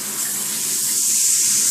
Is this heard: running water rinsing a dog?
yes